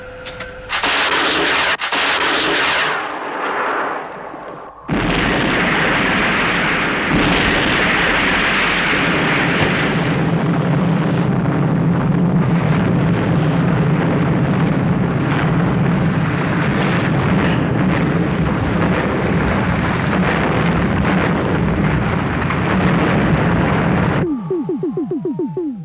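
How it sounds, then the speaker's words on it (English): Missiles launch and explode in a Thunderbirds TV episode, a loud sustained roar of rocket fire and blasts with sharp bursts early on, rumbling steadily for over twenty seconds before cutting to near silence. "Fire missiles. Now!"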